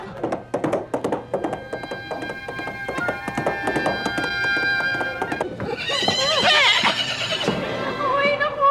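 A horse neighs and whinnies loudly in a comedy sketch setting, preceded by thumping, clopping taps; the whinny rises and wavers over a couple of seconds near the end.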